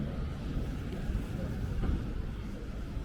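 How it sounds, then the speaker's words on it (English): Wind gusts on 9th Avenue in New York City, a low, steady rumble of blowing air with a slight swell partway through and faint street noise underneath. "Got a bit of a wind coming in right now."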